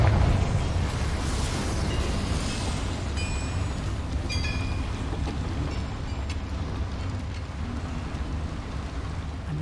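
A Confringo fire spell explodes in Hogwarts Legacy inside a goblin mine with boilers, a sustained loud rumbling blast with crackling bursts layered over a steady low roar, no talk.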